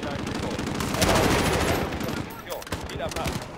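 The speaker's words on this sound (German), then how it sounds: "Wir werden von Truppen am Südeingang des Krankenhauses beschossen." Troops firing on a hospital's south entrance in Call of Duty Modern Warfare, with dense, sustained automatic gunfire and overlapping bursts throughout, loud and close, under occasional voices.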